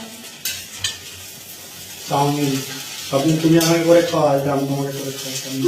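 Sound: stirring egg chow mein in a pan

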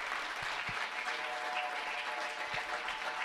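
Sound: audience applause for a musical theatre troupe

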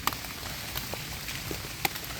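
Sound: rain falling

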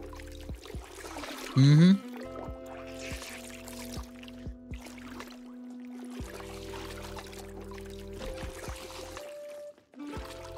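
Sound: water pouring while washing in Project Zomboid video game

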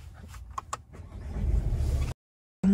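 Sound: 2020 Mercedes A-Class AMG pack car engine starting

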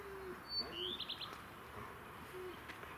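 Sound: pigeons cooing

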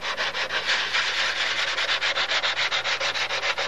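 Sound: sanding wooden wing sheeting with a sanding block

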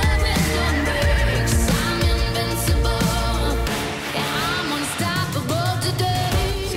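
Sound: wild horses neighing

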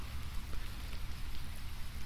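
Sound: rain in the video game Dead Island

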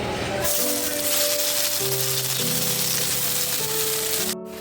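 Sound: cutlets frying in a pan

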